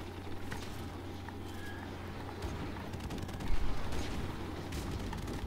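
Gunfire in the shooter game Call of Duty 4: Modern Warfare, scattered distant-sounding shots and a louder burst midway over a constant background rumble of game ambience.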